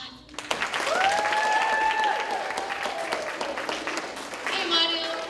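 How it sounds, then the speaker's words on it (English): A room of people applauds at an autism awareness event, a dense wash of clapping rising quickly and holding steady, with a whistle or squealing tone drifting over it and voices cheering near the end. "Can we have a round of applause?"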